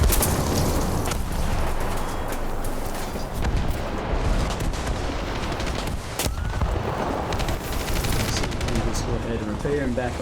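War Thunder tank battle with dense, continuous gunfire and explosive booms, hits landing on a tank from a sniper; loud, sustained crackle and bursts with occasional louder impacts throughout.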